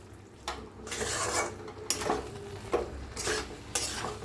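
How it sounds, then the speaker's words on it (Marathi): Cabbage and potato curry being stirred in a pan, with spoon-on-metal scrapes and clatter in repeated bursts over a low simmering sizzle, close and moderately loud, no voices. "एकदा मिक्स करून घेऊया."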